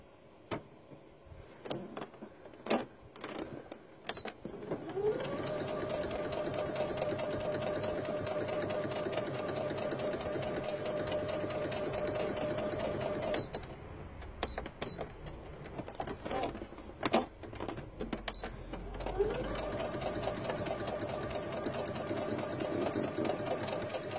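A sewing machine runs in two long steady bursts stitching fabric triangles, separated by short stops and clicks of handling, close and fairly loud with no talk over the running motor.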